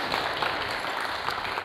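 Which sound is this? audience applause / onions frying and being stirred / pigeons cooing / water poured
audience applause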